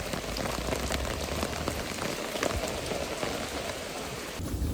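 Steady rain falls on a rural Vietnamese homestead, a dense continuous patter of drops hitting surfaces close by, with faint low rumbles in the background and no voices.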